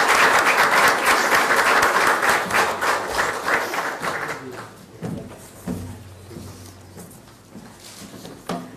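Audience applause welcoming Prime Minister Manmohan Singh at a formal event, a loud sustained wave of clapping that gradually thins and fades to scattered claps.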